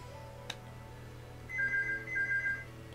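A telephone rings in a room, an electronic warbling tone in two bursts around the middle, fairly clear over a steady low hum with no talking.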